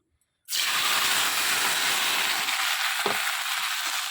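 Whole cumin seeds, ginger and tomato hit hot oil in a pan with a sudden loud, continuous sizzle that holds steady for several seconds, with a brief stir midway.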